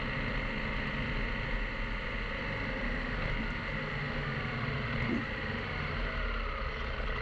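A KTM motorcycle engine drones steadily while riding, a continuous broadband rumble mixed with wind rush, loud and close throughout with no talking.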